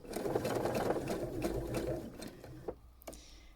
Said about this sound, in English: We want to sew nice and smoothly.